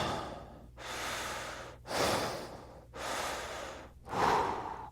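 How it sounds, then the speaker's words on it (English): Deep breathwork breathing, close and loud, as a series of long full inhales and exhales in an even rhythm, roughly four or five drawn-out breaths with brief pauses between them and no talking. "Full breath in, full whole breath out."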